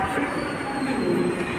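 A London Underground train rolls through: a continuous close rumble of wheels with a faint metallic squeal running over it.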